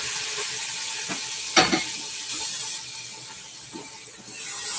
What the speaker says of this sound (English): I will sear it like for 4 minutes on one side.